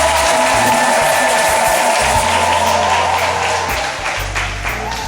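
Church congregation applauding at a Catholic celebration in Agboville, Côte d'Ivoire, a steady, loud wash of clapping that holds throughout and eases slightly near the end.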